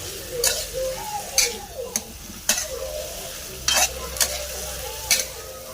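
A spoon stirring food in a frying pan, with repeated scraping strokes at a steady rhythm over a steady sizzle and faint voices in the background.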